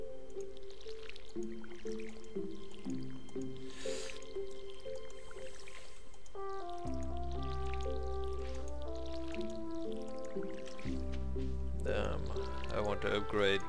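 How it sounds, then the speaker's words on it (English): A watering can pours over crops in Stardew Valley, with soft dripping and splashing bursts repeating under the game's steady background music. "And we are going to water the plants again."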